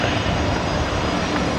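A jet airliner in special commemorative livery at Brisbane Airport, a loud, steady broadband engine roar filling the whole moment without change.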